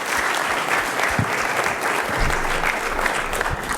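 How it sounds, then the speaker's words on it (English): Lecture audience applauds steadily and evenly throughout, a dense crowd of clapping hands filling the room with no talk over it. "a big round of applause to say thank you for coming to talk to us here today"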